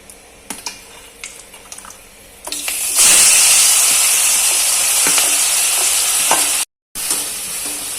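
Onions hit hot oil already fragrant with cinnamon and cloves for a prawn gravy, first a few light clinks and taps, then a loud, sustained sizzle that roars on with a brief break near the end.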